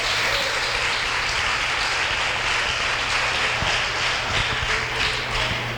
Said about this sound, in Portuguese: dê um amém bem forte, um aplauso ao Senhor